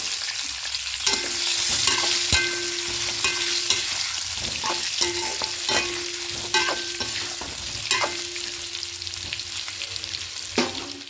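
Potatoes fry in hot oil while a spatula stirs them, giving a steady sizzle broken by repeated scraping and tapping strokes against the pan, close and without voices.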